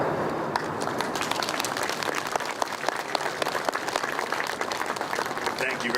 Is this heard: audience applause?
yes